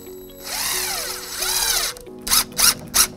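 A power drill driving a standard drywall screw into a wall, two rising and falling whirring runs followed by three short sharp bursts as the screw is set, loud and close.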